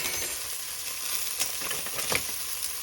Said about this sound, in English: just gonna cook these down a little bit, just a very little bit, saute it out a little bit